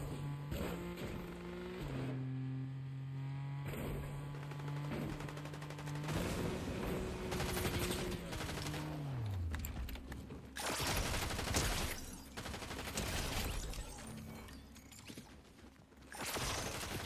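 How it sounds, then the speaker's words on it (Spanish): Gunfire in the video game Fortnite, rapid bursts of shots mixed with mechanical clanks and whirring game effects, fairly quiet overall with sharp repeated cracks through the second half. "Tiros."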